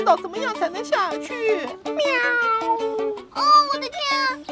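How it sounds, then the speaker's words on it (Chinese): A cartoon kitten stuck up a tree meows repeatedly in a high, plaintive voice, several close, clear calls, with animated characters speaking around them. "是小猫在叫。"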